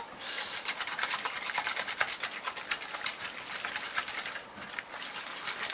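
Glucomannan and oat noodle dough being mixed quickly in a bowl, a steady close scraping and rubbing texture that keeps going without a break, faint and uneven in loudness.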